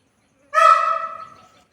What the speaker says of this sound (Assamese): বন মুৰ্গী এটা।